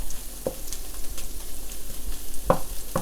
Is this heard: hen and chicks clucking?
no